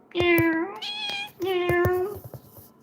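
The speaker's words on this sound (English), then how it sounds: "I love cats, but I'm allergic to them." A cat lets out two long, drawn-out meows close to the microphone, one after the other with a short gap, alone and clear.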